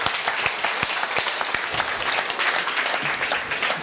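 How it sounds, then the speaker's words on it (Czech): An audience at a live talk show applauds, dense continuous clapping from a full room with sharp individual claps standing out close by, lasting several seconds without a break. "pojďme jim zatleskat"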